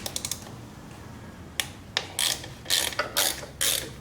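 Ratchet wrench working on a 1986 Honda Goldwing GL1200 SE-I motorcycle to remove an engine cover, giving a quick burst of ticking clicks followed by several close, loud ratcheting strokes in an uneven rhythm.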